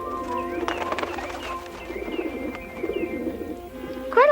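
Birds coo and chirp in a forest as they peck at a trail of breadcrumbs, with a steady run of calls and a louder, closer burst of chirping near the end.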